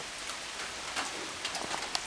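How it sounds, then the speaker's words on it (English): Steady rain falling, a soft broadband hiss with occasional sharper drips and patters on a surface, fairly faint. "Dang, I wish it quit raining."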